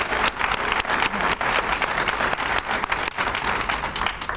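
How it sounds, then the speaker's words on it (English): An audience at a school district grant announcement applauds loudly and steadily, with dense overlapping claps filling the room throughout. "So I think they just deserve a hand of applause just for their commitment."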